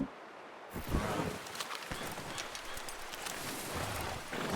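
Horse hooves walking in Red Dead Redemption 2, a soft steady clip-clop over rustling ground at moderate distance, with a faint wind-like background and no talk.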